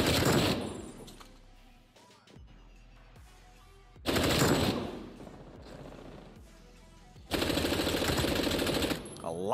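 FARA 83 rifle fired in Call of Duty with the Vulture Exo blueprint and reactive camo: three loud bursts of rapid automatic gunfire separated by quieter stretches of game sound.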